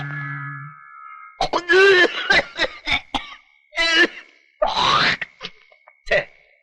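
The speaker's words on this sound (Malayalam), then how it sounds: "കുത്തി കുത്തി ഒരു ചുമ" A man in a film scene gives a series of harsh, repeated coughs and throat-clearing grunts, close and loud, in separate bursts with short silences between them.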